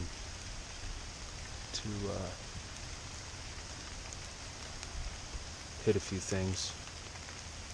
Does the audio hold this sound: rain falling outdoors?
yes